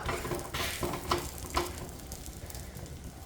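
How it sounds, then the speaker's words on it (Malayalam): A chapati is pressed down in a hot pan. A soft sizzle runs underneath several distinct pressing and scraping knocks spaced about half a second apart, close by and fairly quiet. "നമ്മൾ ഈ ഒരു ചപ്പാത്തി ഇതിലേക്ക് അങ്ങ് ഇട്ട് കൊടുക്കുക നന്നായിട്ടൊന്ന് പ്രസ് ചെയ്ത് കൊടുക്കാം"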